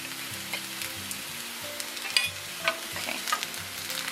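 Canned tomatoes, undrained, go into a hot pan and sizzle steadily while a utensil scrapes and stirs, with a few sharper clinks and pops close by, no talking.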